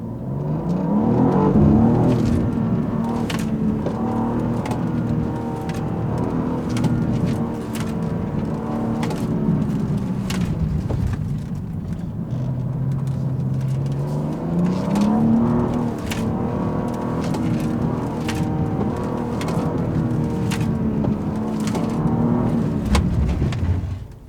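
A car on Hoosier TrackAttack Pro street tires runs a timed lap, its engine droning loud and steady throughout, rising and falling in pitch as it accelerates and eases through corners, with wind and road noise underneath.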